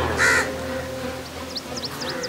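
A crow in an animated fairy tale gives a short loud caw near the start, followed by a few faint higher chirps over a steady background hum, with no speech.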